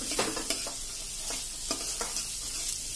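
Green peas tipped into onions sizzling in a pan for rava upma, then stirred, giving a steady close sizzle with several sharp scraping strokes and no talking.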